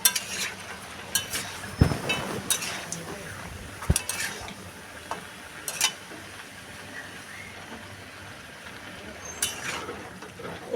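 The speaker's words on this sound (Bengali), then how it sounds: "আলুগুলো দিয়ে নিয়েছি এবার সুন্দর করে নাড়বো" Chicken curry with potatoes stirred in a pot, a soft simmer broken by sharp clinks and scrapes of a metal spoon against the pot at irregular intervals, close and fairly quiet.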